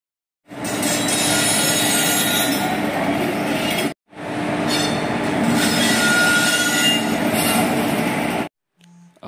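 Loud rumbling of a train at Coimbatore railway station, with metallic clanks and squeals of wheels on rails, briefly cut near the middle, then stopping abruptly near the end.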